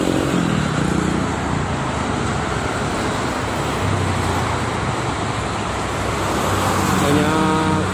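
Busy traffic on the Jakarta–Cikampek toll road ahead of a long holiday weekend makes a continuous dense roar of passing cars and trucks, steady and fairly loud, with no talking.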